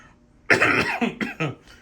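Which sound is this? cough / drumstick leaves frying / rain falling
cough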